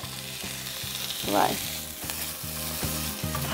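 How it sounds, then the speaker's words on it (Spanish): Bacon sizzles in a pan with no added oil, frying steadily under a repeating rhythmic background beat, with a short word spoken midway. "vamos a poner el tocino sin nada. No vamos a poner aceite ni nada, porque ya tiene mucha grasa el tocino."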